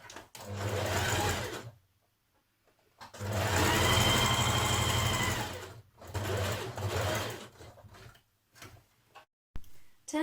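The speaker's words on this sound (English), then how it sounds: "you're going to stitch to the corner and then along to your notch here" A sewing machine stitches a coat collar in two steady bursts of whirring, rhythmic stitching, separated by a pause, with softer handling noises and brief starts toward the end.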